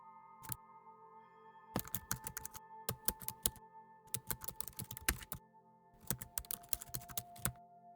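Quiet, close keyboard typing in bursts of rapid keystrokes separated by short pauses, with no voices.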